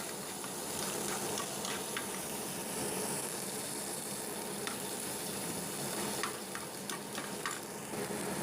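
Chicken sizzles and fries steadily in a pan for Pakistani-style chicken and vegetable biryani, with a dense, continuous crackle and occasional light ticks of stirring.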